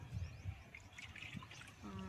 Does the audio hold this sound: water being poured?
yes